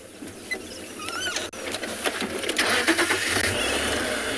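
A safari vehicle engine idles and runs at moderate level on a South African morning drive, a steady mid-range rumble with faint bird calls above it and no talk.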